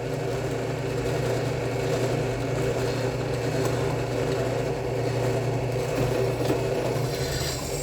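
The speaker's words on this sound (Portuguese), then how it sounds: "Vou furar esse sem usar o fluido de corte, só para vocês verem," A drill bit bores through a fairly thick steel plate with no cutting fluid, giving a steady, loud grinding whir with a constant motor hum that holds unbroken throughout, with no voices.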